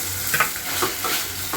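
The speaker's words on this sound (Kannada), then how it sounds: "ಇವಾಗ ಅರ್ಧ ಫ್ರೈ ಆಗಿದೆ ಈರುಳ್ಳಿ ಮತ್ತು ಕ್ಯಾಪ್ಸಿಕಮ್ಮು." Onion and capsicum with a spice paste sizzle in a pan while a spoon stirs and scrapes, giving a steady close frying hiss with soft irregular clicks.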